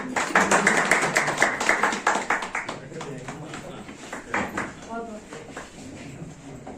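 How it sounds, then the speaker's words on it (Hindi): A group clapping together in an office gathering to honour a municipal executive, a dense burst of claps that is loud at first and then thins into scattered claps, with a voice speaking partway through. "तालियां बजा दो।"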